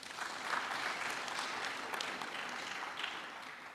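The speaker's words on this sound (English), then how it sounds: "Let's give them a round of applause." An audience at a memorial lecture applauds in a steady, fairly faint wash of clapping that holds for several seconds with no voices over it.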